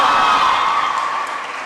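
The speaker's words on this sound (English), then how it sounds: "Please give a round of applause to her." Audience at a college mass communication department event applauds for a speaker, a steady dense wash of clapping that tapers slightly toward the end, with no talking over it.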